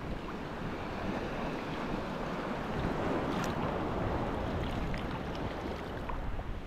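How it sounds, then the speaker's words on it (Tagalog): Strong ocean waves roll and break continuously at Aninuan Beach in Puerto Galera, a loud, steady surf roar mixed with heavy wind buffeting the microphone, with no talking. "Lakas ng alon."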